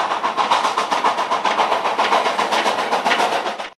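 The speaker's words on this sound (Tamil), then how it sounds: "இந்த பிஸ்டன்கள் ஏற்படுத்தும் ஓசையை நீராவி என்ஜின்கள் இயங்கும் போது எளிதாக கேட்க இயலும்." Steam locomotive running, its pistons driving a fast, regular chuffing beat that stays loud and close for the whole stretch, with no voices.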